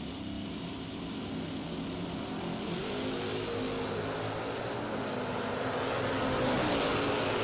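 Drag racing cars, a 1985 Camaro and a Monza, at a doorslammer event, with a steady droning engine roar that slowly builds in loudness, heard from a distance without voices.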